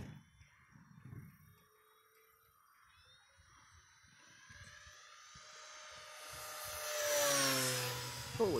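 E-flite 1.5m P-51 RC airplane, a thin distant whine that slowly builds and rises into a high screaming pass close overhead near the end, with faint outdoor background before it.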